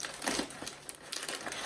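Butcher paper and foil wrapped around a smoked beef brisket from a Pit Boss kamado crinkle and crackle as they are cut open, in a string of quiet, irregular rustles up close, with no talking.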